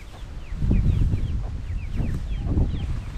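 A hen clucking while leading her chicks on a walk in a permaculture garden food forest, with repeated soft clucks and thin, high peeping from the chicks, close by and continuous.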